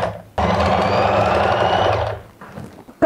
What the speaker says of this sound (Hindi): आपने ढीला हाथ रखना है और सिलाई शुरू करनी है।